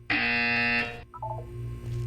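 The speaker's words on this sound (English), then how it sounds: "You will hear a buzzer." A flat, loud electronic buzzer from the test-chamber intercom in the video game Portal 2 sounds once for nearly a second, then a softer series of short tones pulses under a low steady hum.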